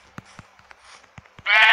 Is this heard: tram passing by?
no